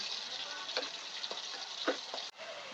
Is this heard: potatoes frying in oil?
yes